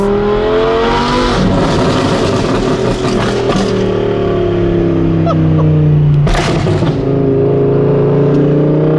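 An Audi R8 with a loud flame-tune exhaust revs hard, its engine note climbing and falling in strong sweeps with sharp crackling bursts, close and very loud throughout.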